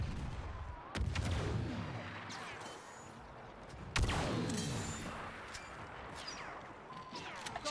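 Heavy artillery booms in a PC video game, two big blasts a few seconds apart, each with a long rumbling and whistling decay, amid steady battlefield noise.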